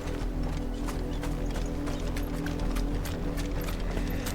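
Rapid, steady footfalls of a running chocobo mount in Final Fantasy 16 pound along over a continuous bed of game sound, with no talking.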